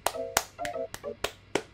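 Six distinct hand claps, sharp and close, spaced fairly evenly with faint tones ringing between them.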